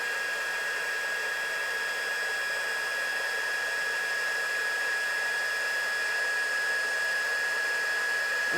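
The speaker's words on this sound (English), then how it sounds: "Okay, so I've got our heat tool here, and we're just going to heat that up." A crafting heat tool blows hot air in a steady, unbroken whoosh with a faint high whine, held close and running alone without any talk.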